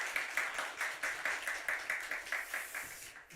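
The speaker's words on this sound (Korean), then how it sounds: "감사의 마음을 박수로 전달하겠습니다." A church congregation claps together in steady, even rhythm for several seconds, soft and somewhat distant in a large hall.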